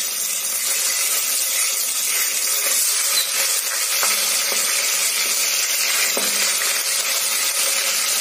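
Sliced onions frying in oil in a pan, giving a steady, fairly loud hiss of sizzling with a few faint clinks, continuous and close, and no voices.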